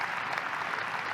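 An audience at an emergency nursing conference keynote breaks into steady applause, a dense wash of many hands clapping together, loud and even throughout.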